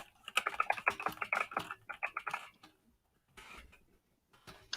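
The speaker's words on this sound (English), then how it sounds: "So I am going to type in a comment on Facebook." Rapid, close clicking of a computer keyboard as a Facebook comment is typed, a dense burst of keystrokes, a brief pause, then a quieter second run of taps.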